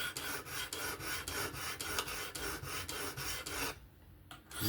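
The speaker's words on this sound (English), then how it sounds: "Now we are sharpening." A Kizer October folding knife with a 20CV steel blade is drawn across the abrasive on a Work Sharp Professional Adjust, giving repeated even rasping strokes in a steady rhythm, close and fairly loud, ending in a brief pause and one last stroke.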